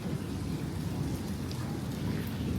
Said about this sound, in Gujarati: અને વરસાદ પડે છે ફૂલ.